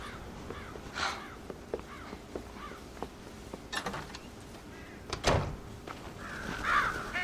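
Crows caw in the game Red Dead Redemption, several harsh calls spread across the scene at moderate distance, with a dull thump near the end.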